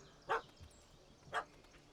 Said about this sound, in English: It's a small dog